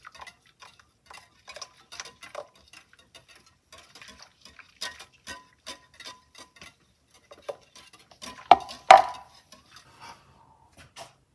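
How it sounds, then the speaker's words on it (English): Cream being mixed by hand into a jelly mixture for a jelly cream slice, giving a steady run of light ticking and clinking strokes with a louder clatter near the end, close and with no talking. "Just add slowly and mix in."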